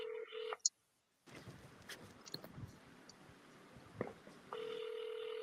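An outgoing telephone call rings unanswered: a steady ringback tone sounds at the start, drops out for a noisy stretch, then returns near the end, heard fairly faintly through the phone line.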